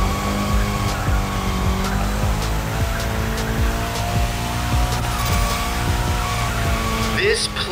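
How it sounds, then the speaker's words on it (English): Car drifting in The Crew Motorfest, tires squealing steadily over a loud, continuous engine roar, with talk running over the top. "Go drift to your heart's content."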